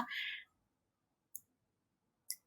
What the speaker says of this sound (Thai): คุณครูจะคลิกให้นักเรียนดูต่อไปนะคะ